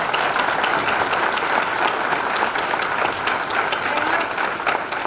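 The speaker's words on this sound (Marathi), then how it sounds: "मला असं छान वाजल्या पाहिजे टाळ्या" Sustained audience applause at a discussion event with a senior film and theater actress, dense and steady throughout, with a voice faintly under the clapping.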